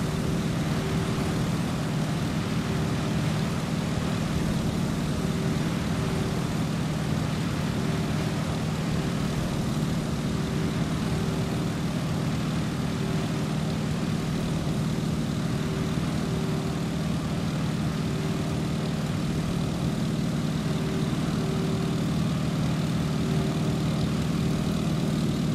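Stearman biplane radial engine and propeller in Microsoft Flight, a steady loud drone with a constant pitched hum, unbroken and unchanging throughout, with no voices.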